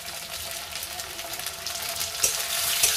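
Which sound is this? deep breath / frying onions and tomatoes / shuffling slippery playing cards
frying onions and tomatoes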